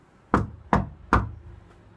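Three firm knocks on a door, evenly spaced about a second apart, loud and close with nothing else heard.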